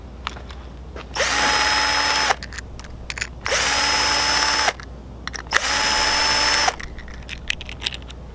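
A Milwaukee power driver fitted with an Allen wrench bit turns a bolt on a lawn care trailer in three loud, close whirring bursts of about a second each, separated by short pauses, with no talking.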